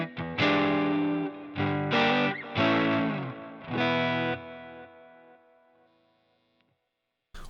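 Electric guitar played through a Line 6 Helix with two different cabinets panned hard left and right: four loud distorted chords struck in steady succession, the last left ringing and slowly fading to near silence.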